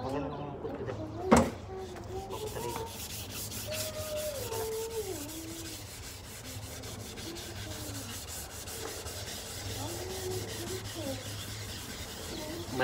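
Continuous scratchy rubbing of sandpaper against the body of a 2002 Toyota Corolla, steady and close, with people talking over it and one sharp knock early on.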